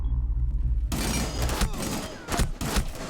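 Dense bursts of rapid gunfire in Rainbow Six, loud and close, with sharp repeated shots and cracks clustered over a few seconds of sustained shooting.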